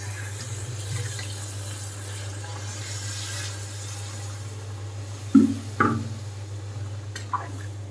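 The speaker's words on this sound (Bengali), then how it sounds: "এবার আমি দিয়ে দেবো জল।" Water is poured into a pot of cooking ghugni made with peas and fat, giving a short splash and gurgle late on over a steady low stove hum, with no voices.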